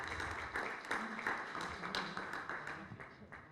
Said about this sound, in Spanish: Brindamos un fuerte aplauso, por favor.